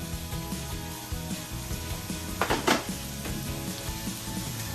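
Garlic and Greek seasoning sauté in a pan for lamb shanks, a steady soft sizzle and crackle close by, with a brief louder burst of spitting or stirring partway through.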